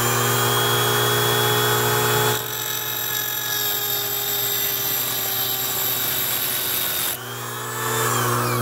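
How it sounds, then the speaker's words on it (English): A Dremel rotary tool grinds a groove into a metal pinewood derby axle, a loud, steady high-pitched whine that dips in pitch and level while cutting, then rises again as the load comes off. "You need a Dremel or something, a drill press. You got to cut a groove into the axle where you want it to bend."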